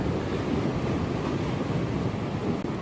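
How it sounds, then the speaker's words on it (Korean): Surf rolling onto the shore at a sea fishing spot, a steady broad wash of waves mixed with wind buffeting the microphone, continuous and fairly loud with no voices. "파도가 이만씩 온다"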